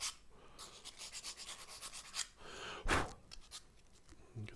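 Rolled-up sandpaper rubbing around the rim of a turned piston box, a soft, raspy back-and-forth sanding in quick close strokes with one brief louder scrape near the end.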